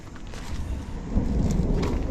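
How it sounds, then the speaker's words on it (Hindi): Low thunder rumbles steadily beneath a broad wash of rain noise, swelling slightly midway. "बादल अभी भी गरज रहा है।"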